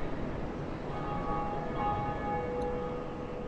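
A bell rings in Dark Souls at Sen's Fortress, giving faint, thin sustained tones that drift over a dense, steady wash of game ambience and low rumble, with no talk.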